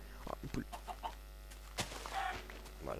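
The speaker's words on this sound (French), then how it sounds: "oh, une poule" A Minecraft chicken gives several short, separate clucks, moderately loud over a steady low hum, with no talk in between.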